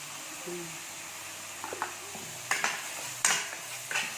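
Candlenuts, coriander and chili fry in a pan for a chicken stew, with a low sizzle under sharp clinks and scrapes of a spatula stirring against the metal.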